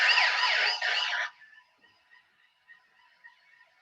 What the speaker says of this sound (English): just press this police alarm, keep it in your bag